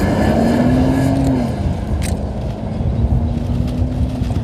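Lincoln Navigator with a V6 engine accelerating hard during an on-road acceleration test, a loud steady engine drone with a rising tone that holds through the run, no talking.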